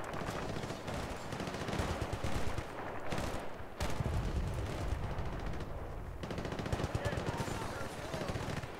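Dense, continuous machine-gun and rifle fire rattles through a Battlefield: Bad Company 2 firefight, with explosive booms mixed in under faint voices.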